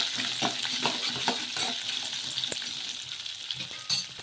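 Onion and green chilli frying with mustard seeds in a pan, a continuous close sizzle with fast irregular crackles and ticks from stirring.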